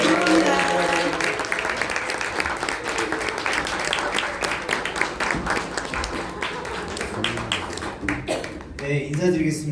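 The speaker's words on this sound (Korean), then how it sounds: "우리 오재훈 부사님 모실 때 큰 박수와 함성으로 모시도록 하겠습니다" A corporate seminar audience claps and cheers to welcome a head-office manager, a sustained wash of hand claps with voices mixed in, fading near the end.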